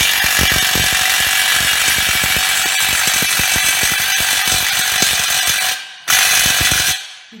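Einhell cordless impact driver tightening a bolt: a loud, rapid ratcheting hammer of impacts running steadily for about six seconds, a brief stop, then one more short burst before cutting off.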